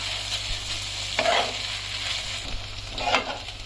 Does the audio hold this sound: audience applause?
no